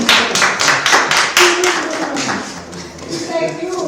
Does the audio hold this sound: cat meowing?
no